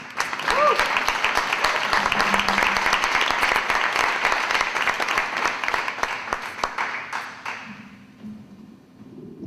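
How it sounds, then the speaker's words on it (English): Loud applause from a crowd, dense clapping that holds steady for several seconds and then tapers off near the end, with a few voices mixed in. "Give him a round of applause."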